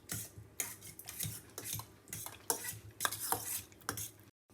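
A spoon scrapes and clinks in a bowl while celery salad with fresh orange juice is stirred, giving irregular, close, wet scraping strokes that stop abruptly at the end.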